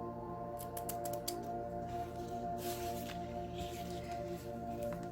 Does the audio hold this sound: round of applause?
no